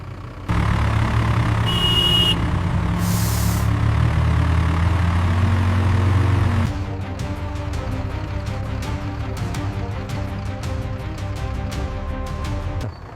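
An Ashok Leyland truck turns off the highway onto a village road, its engine droning loud and steady, then shifting to a lower, rougher rumble with rattly clicks; two brief hissing bursts sound early on.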